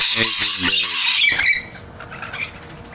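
Noisy miner birds give harsh squawking calls in a quick run of rising bursts, loud and close at first, then fading into scattered fainter chirps against a light outdoor background.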